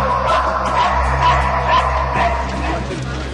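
British police sniffer dogs bark and yip repeatedly in quick, loud bursts, mixed with whimpering, over a steady low background.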